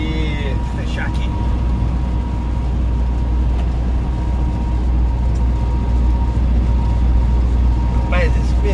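Continental tyres on a truck roll steadily over the road, a loud, continuous low rumble and road roar from inside the cab, with brief squeaks and faint voices over it.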